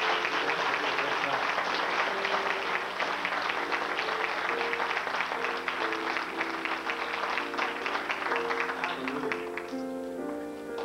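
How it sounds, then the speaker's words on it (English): Church congregation clapping at an Easter 1991 service in an Assembly of God church, steady dense applause throughout with music playing along and rising toward the end. "Why don't you give all those folks a hand clap this morning?"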